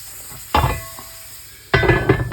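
Ice cubes tipped onto a hot tray under a wholegrain sourdough loaf give two loud bursts of sizzling, steaming hiss with clinks, separated by a quieter pause.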